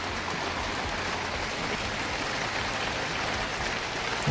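Steady spring rain falls outdoors near a shed under construction, a dense continuous hiss of drops spattering on surfaces with no letup, fairly close and with no voices over it.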